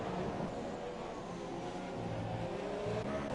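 A McLaren Formula 1 car in F1 2018 on the Monaco circuit gives a steady, buzzing high-revving engine drone, moderately loud and continuous, with no clear voices.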